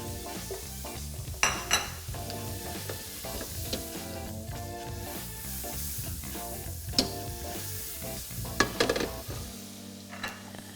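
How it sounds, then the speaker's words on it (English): About two tablespoons of butter, cut in half, fry with a steady crackling sizzle in a preheated pan, with occasional clinks of a utensil against the pan. "we're gonna add butter to the pan that's already preheated"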